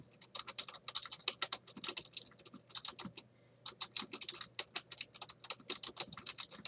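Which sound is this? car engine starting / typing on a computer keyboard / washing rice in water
typing on a computer keyboard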